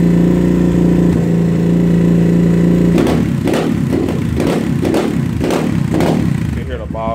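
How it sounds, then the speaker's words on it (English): SSR 189 dirt bike engine, not yet fully warmed up, at a steady idle, then revved in a quick series of about seven rhythmic blips with an audible bog, loud and close, with no talk. "Give it a couple revs."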